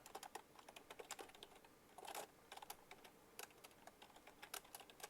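Keystrokes on a computer keyboard while writing a name and web address in a text editor, a quiet irregular run of clicks with brief faster bursts, close and alone with no talk.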